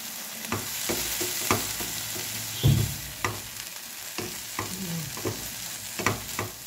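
Carrot halwa with powdered milk and sugar is stirred in a pan over low flame, a soft steady sizzle under repeated scraping and tapping of the spoon against the pan.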